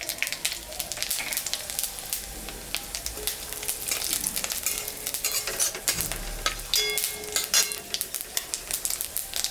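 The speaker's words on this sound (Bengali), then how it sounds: "মাছ ভাজা তেলের উপরে আর একটু তেল আমি দিলাম, শুকনো লঙ্কা, জিরা, সম্বরা দিলাম।" Dried red chilli and cumin seeds tempering in extra oil poured over oil left from frying fish, a dense close sizzle with rapid crackling pops and occasional scraping of a stirring utensil.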